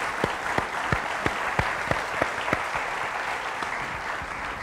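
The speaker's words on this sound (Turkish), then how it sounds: "Onları buradan alkışlayalım." Steady audience applause for bağlama players on a Turkish music show, a dense wash of many hands clapping, with a few louder individual claps standing out at regular intervals.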